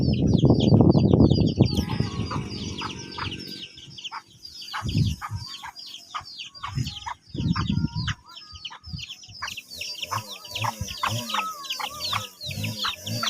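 Fighting roosters kept on a farm by rice fields crow and cluck repeatedly, with several birds calling close by in overlapping bursts and rhythmic clucks, some louder and nearer than others, with no speech.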